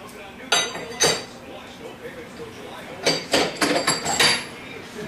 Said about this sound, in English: now we can go ahead and put our rear carrier on